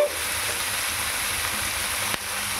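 Bottle gourd pieces fry and sizzle in a hot pan, giving a steady, close hiss with a brief stir or clatter near the end, with no talking.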